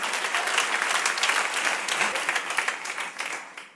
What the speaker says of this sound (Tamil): அதனால இன்னும் ஒரு முறை கைதட்டல்